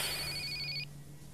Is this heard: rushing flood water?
no